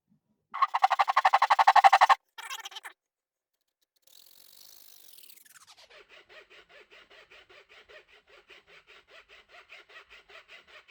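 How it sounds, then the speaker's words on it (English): Small file working a divot into a wooden toggle, a rapid burst of dry rasping strokes close up, a short second burst, then quieter fine scraping continuing at a steady rhythm. "all I'm filing with is a little bit of this side and then that side."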